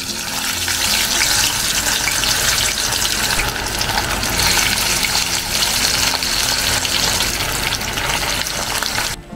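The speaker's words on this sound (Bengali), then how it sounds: "গল্প করতে করতে দেখুন বেশ কয়েকটা পিস মাছ ভাজা হয়ে গেছে" Fish pieces frying in a generous amount of oil, a loud, dense, continuous sizzle and crackle that holds steady throughout without any voices.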